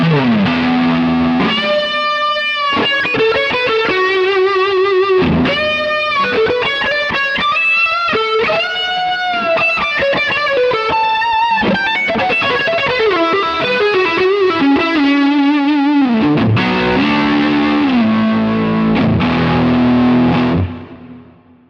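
An electric guitar drenched in distortion and modulation effects plays a long melodic passage, loud and up close, then cuts off at the end.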